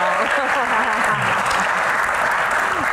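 A crowd at a stand-up comedy Q&A claps steadily throughout, while someone talks over the applause.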